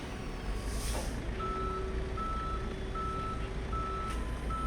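A tow truck reverses in the Police Simulator patrol game, its steady beeping repeating at an even pace over a constant low engine rumble, with a brief hiss of air brakes near the start.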